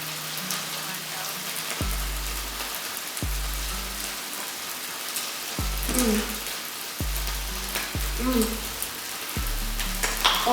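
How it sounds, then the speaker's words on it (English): Teriyaki beef stir-fry smokes and sizzles in a pan with a soft, steady hiss. Low, recurring musical tones sweep through beneath it. "The beef is smoking away, honey."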